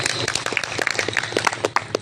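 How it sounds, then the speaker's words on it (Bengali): Audience applause at a factory efficiency festival, a steady patter of claps from a modest crowd continuing through the whole moment. "আমাদের সবার পক্ষে একটি করতালি আশা করছি"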